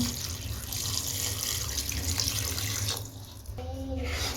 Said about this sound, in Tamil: இப்போ இதுக்கு கூடவே கொஞ்சம் தண்ணி சேர்த்து மிக்ஸ் பண்ணி இதுலேயும் சேர்த்துருவோம்